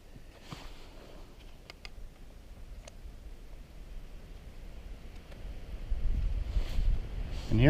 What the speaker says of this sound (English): And here comes some crazy wind all of a sudden.